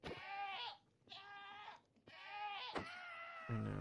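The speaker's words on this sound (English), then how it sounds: "There's a goat." A goat in FTB StoneBlock 4, a Minecraft modpack, bleats three times in long wavering calls with short gaps between them, close and clear, followed by a brief low thump.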